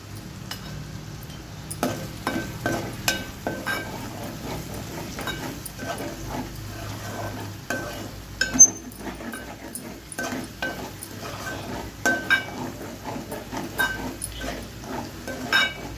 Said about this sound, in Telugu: పచ్చివాసన పోయినంత వరకు ఇలా ఫ్రై చేయాలి